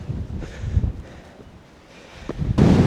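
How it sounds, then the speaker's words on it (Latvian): Gusty wind buffets the microphone in rumbling waves while climbing among the cave dwellings of Matera, Italy, swelling into a loud roaring blast near the end. "Jo augstāk es kāpju, jo trakāks vējš sāk pūst man."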